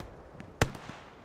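A rocket exploding in the Hell Let Loose war game, one sharp, booming blast with a short rumbling tail, heard at middle distance over faint background battle noise.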